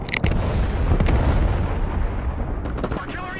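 Artillery firing in the strategy game Broken Arrow: loud booming blasts with rumbling tails, several shots spaced out over a dense battlefield din, with radio voices faintly in the mix.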